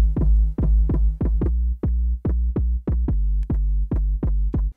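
Deep synth bass notes from a Jersey Club track built in Ableton play alone, about fifteen punchy plucked hits in a quick, bouncing rhythm, each with a sharp attack and booming low sustain.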